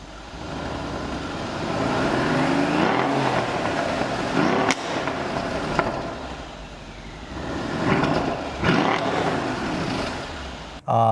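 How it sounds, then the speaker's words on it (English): A 2013 Mercedes-Benz CLS 63 AMG idles and revs outside, its exhaust rumbling and swelling in a few bursts before settling, heard from nearby with no talking. "give you a little exhaust note so that you can hear what it sounds like from the exterior"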